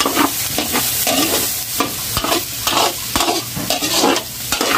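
Jicama (singkamas) sizzles loudly in melted butter in a pan, a dense continuous fry with scraping stirring strokes throughout, close up and with no one talking.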